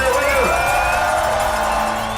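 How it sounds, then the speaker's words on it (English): A roadside crowd at a professional cycling race, the Tour of California, cheers and whoops steadily, loud and dense, with voices mixed into the din. "Big round of applause for the three-beat man, Levi Leipheimer."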